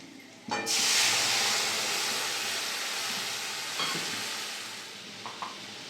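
Black cumin and torn green chillies hit hot oil with a sudden loud hiss, then keep frying in a strong, steady close sizzle that slowly eases off, with a few small clinks and no talk.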